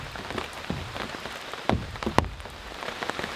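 Heavy storm rain at a campsite in Japan patters steadily on a surface, with a few louder, sharper drops or taps standing out from the constant shower.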